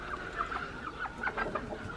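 A broody hen sits on a clutch of eggs in the nesting spot and clucks softly and repeatedly at close range, a steady run of short, low clucks with no talking.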